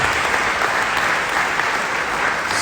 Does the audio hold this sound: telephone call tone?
no